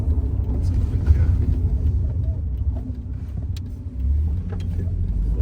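A 1994 Mercedes W202 C180 with a manual gearbox pulling away, heard from inside as a continuous low engine and road rumble, fairly steady, dipping briefly and then swelling slightly as it moves off.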